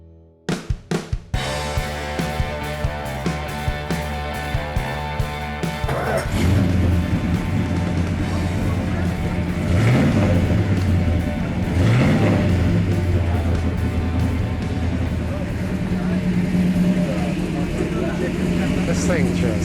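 A car engine idles with a few sharp blips, then roars into loud, sustained revving that rises and falls in waves, close and powerful.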